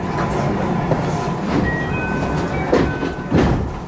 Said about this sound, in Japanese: スピードが徐々に上がって宇治川を渡り宇治駅に停車します